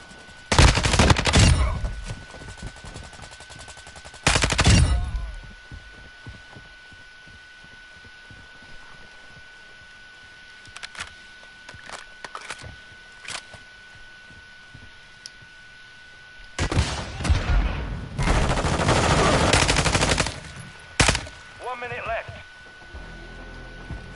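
Bursts of Lockman 556 rifle gunfire, modeled on an HK33, in a video game, with loud rapid volleys at the start, sparse quieter shots through the middle and renewed sustained bursts near the end.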